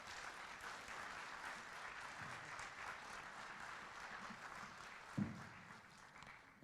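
An audience applauds steadily to welcome Mayor Brian Biggar of Greater Sudbury to the podium at a State of the City address, a dense wash of clapping that holds throughout with one sharp knock near the end.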